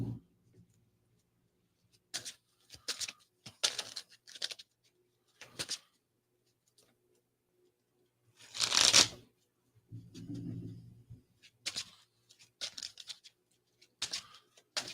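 A deck of Magic: The Gathering cards being shuffled during a Commander game at a table, short crisp riffling bursts separated by quiet pauses, with one longer, louder shuffle in the middle.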